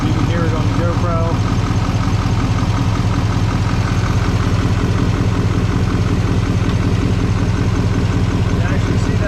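Idling 2024 Duramax diesel truck engine fitted with a Banks Ram Air intake, a steady loud rumble with pronounced induction noise running continuously throughout.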